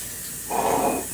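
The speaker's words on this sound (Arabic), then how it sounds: "أحط الموية هنا في الجيب وأضيف عليها جميع المكونات هذه" Water pours into a blender jug while making an immunity drink of lemon, turmeric, honey and olive oil, a brief hissing splash of about half a second that sits clearly above a quiet kitchen background.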